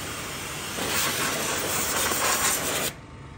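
A pressure washer driven by a 3hp single-phase 220V electric motor sprays a motorbike, its harsh, loud water-jet hiss rising abruptly, holding steady for about two seconds, then cutting off.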